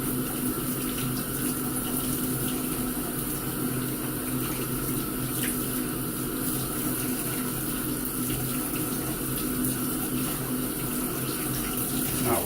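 A steady, full-bodied stream of tap water runs continuously as filter media from a Penn-Plax Cascade 1200 canister filter is rinsed, with no talking.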